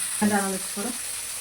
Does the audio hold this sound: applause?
no